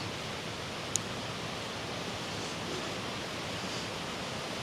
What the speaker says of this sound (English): Ballinafunshoge Waterfall here, this little park up Glenmalure